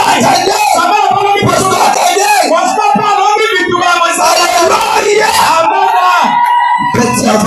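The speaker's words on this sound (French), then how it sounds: "les acclamations ce matin" A church congregation at a Sunday service shouts and cheers in loud, overlapping acclamations, with yells and whoops rising and falling close by for several seconds.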